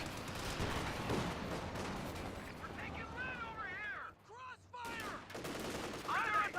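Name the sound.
gunfire in the video game Company of Heroes 2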